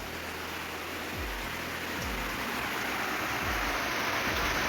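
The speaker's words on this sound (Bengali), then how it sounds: "মুষলধারে বৃষ্টি যেটা বলে।" Heavy torrential monsoon rain pours down in a steady, dense roar of hiss that never lets up, with a few dull low thumps underneath and no voices.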